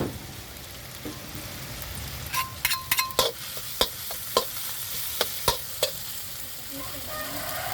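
Mushrooms and garlic being stir-fried in a pan for a Thai home-cooked dish: a steady sizzle underneath, with a string of sharp utensil scrapes and taps against the pan in the middle of the clip, and no talking.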